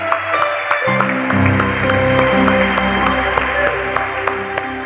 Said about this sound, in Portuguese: Podemos aplaudir a Ele de novo.